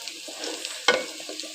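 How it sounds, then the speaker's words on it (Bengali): Chicken pieces fry in hot oil with a steady, soft sizzle and one sharper clatter of stirring partway through, close and alone. "পিসটা লাল লাল করে ভেজে নিব"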